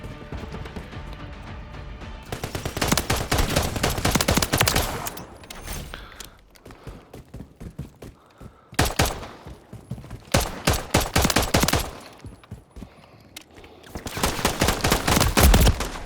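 Pistol gunfire in a Call of Duty Modern Warfare 3 free-for-all match, loud rapid bursts of shots in several clusters separated by brief quieter gaps with background game sound.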